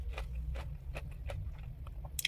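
Crunchy fresh fruit is bitten and chewed close to the microphone, with a series of crisp crunches at a steady pace over a low background hum, recorded in an intimate eating-sound style.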